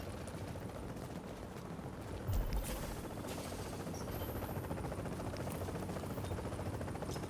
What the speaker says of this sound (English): The helicopter's arriving.